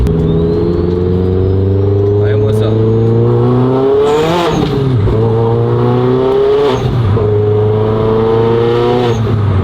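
A tuned turbocharged Renault Mégane RS engine revving hard and accelerating, its pitch climbing through several gear changes as the turbo spools, with someone speaking briefly over the roar.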